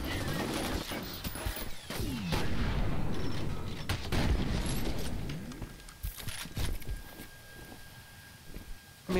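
Gunfire in the F.E.A.R. video game crackles in rapid bursts and scattered single shots, with volleys bunched densely at first and then thinning into sparser reports toward the end.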